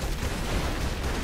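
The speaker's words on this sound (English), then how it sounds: "I forgot the explosion is like 7 blocks apart or something." Explosion in the side-scrolling game Broforce: a loud, dense rumbling blast that fills the whole moment, with no voices over it.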